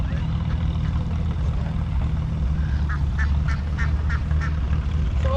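Ducks quack in a short run of repeated calls during duck herding at a harvest festival, set against a steady low outdoor rumble with faint voices in the background.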